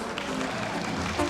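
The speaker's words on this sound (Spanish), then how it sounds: "Fuertes los aplausos para los novios" At a wedding in Guerrero, Mexico, guests clap for the newlyweds in a dense, steady burst of applause that is loud and close, with voices mixed in beneath it.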